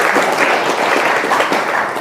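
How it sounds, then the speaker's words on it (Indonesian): A crowd of cadres at a Nahdlatul Ulama gathering in South Sumatra bursts into loud, dense applause, many hands clapping at close range without a break. "Tepuk tangan lagi."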